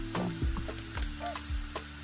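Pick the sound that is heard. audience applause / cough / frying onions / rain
frying onions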